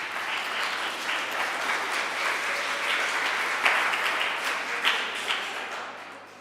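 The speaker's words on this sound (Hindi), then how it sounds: "सारे भक्त जो हैं शुभ कामनाएं दे रहे हैं और तालियां बजा रहे हैं" Devotees at a Mangal Aarti gathering in Udhampur clap in congratulation, a dense, continuous wash of applause from a large group that holds steady at a moderate level, with a few sharper claps near the end before it fades.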